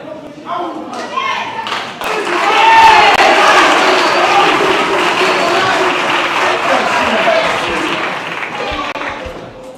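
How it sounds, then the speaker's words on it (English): A student forum audience bursts into loud applause and cheering, with a few shouts amid the clapping, after a speaker is called up; murmured talk precedes it and voices continue beneath the sustained crowd noise. "Thank you for the applause, comrades."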